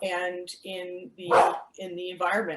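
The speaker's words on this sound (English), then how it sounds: "That's my dog barking. She wants out." A pet dog barks repeatedly at home, wanting to be let out: a string of loud, close, yipping barks in quick bursts, mixed with a person talking.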